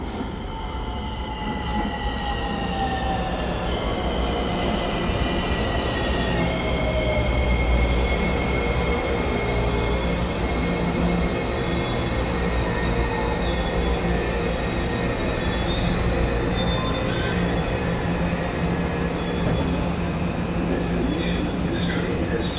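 Aboard a Honolulu Skyline rail transit train in Oahu, Hawaii, a steady rumble of wheels on track fills the cabin, with rising and falling motor whine and occasional squeals running continuously throughout.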